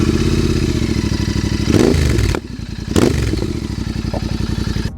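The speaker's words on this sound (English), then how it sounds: "While I've mentioned in other videos that I appreciate the sound of the stock exhaust on the Interceptor, this new setup has truly brought the bike to life." A Royal Enfield Interceptor 650 fitted with a new aftermarket exhaust burbles close and loud in a steady, pulsing idle, broken by two sharp blips of revving with a brief dip between them.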